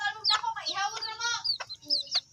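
A chicken clucks close by in a quick series of rising, squawky calls with short gaps between them.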